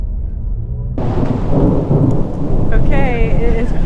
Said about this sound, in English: it is pissing down rain